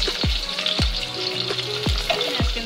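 Capsicum frying in hot oil in a pan, a close, loud, continuous sizzle with four sharp metallic utensil knocks spaced evenly through it.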